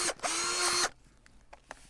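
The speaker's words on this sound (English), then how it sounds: "So I just drilled my little hole" A power drill boring a small hole in a plastic pool chemical floater, one loud whining burst of just over half a second, then quiet with a few faint handling clicks.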